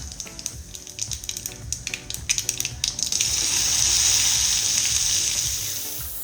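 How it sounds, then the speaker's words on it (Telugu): Okra pieces frying in hot oil after the tempering spices have crackled, a close, dense sizzle with scattered clinks and pops early on, then swelling into a steady loud hiss that slowly eases. "ఆయిల్ హీట్ అయ్యాక పోపు దినుసులు చిటపట అన్నాక కట్ చేసుకున్న బెండకాయ ముక్కలు వేసుకోవాలి."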